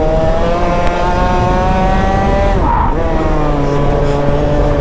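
A competition kart engine runs steadily on a track, its loud, continuous buzzing drone holding near with a brief dip and pitch shift midway, like easing through a corner.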